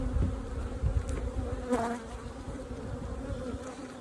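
Honey bees buzzing around a multi-queen micro nuc hive, a dense steady drone with close passes, continuous for about four seconds.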